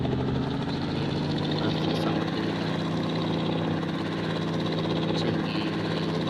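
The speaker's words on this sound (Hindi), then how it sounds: "चलिए हेलीकॉप्टर उड़ने ही वाला है।" Video game helicopter engine idling and spooling up before takeoff, a steady droning hum with rotor buzz held constant throughout, no talk.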